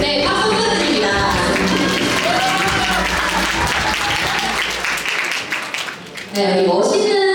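Wedding guests applaud as the groom makes his entrance, dense sustained clapping loud and close with music and an announcer's voice running over it, thinning briefly near the end before swelling again.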